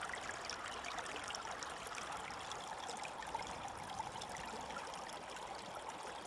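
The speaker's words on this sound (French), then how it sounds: "elle vide un seau et on vous montre ça" Water spilling steadily from a bucket during gold panning in France, a continuous splashing, trickling stream that stays fairly loud and even throughout with no speech.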